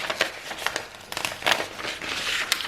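A handmade card for a December Daily scrapbook album is cut, giving close, quiet crinkling and scraping paper sounds in short irregular bursts.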